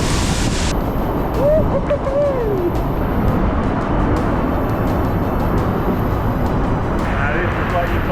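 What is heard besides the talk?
waterfall torrent of water rushing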